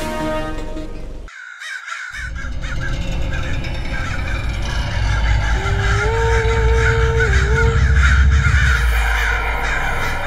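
Crows caw loudly and continuously, a dense flock of harsh calls layered together over a rumbling background, in a Hindi animated Aladdin cartoon scene with tones and music running underneath.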